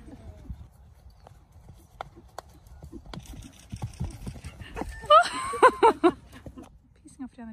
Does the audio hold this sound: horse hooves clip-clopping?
yes